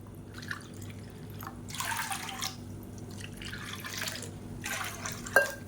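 About three measuring cups of water pour and splash into a pan in short bursts, fairly quiet and close, with no talking.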